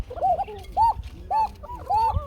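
Fancy pigeons cooing at a pigeon fair, male birds giving repeated close, loud rolling coos in four or five bursts, with faint background murmur of people.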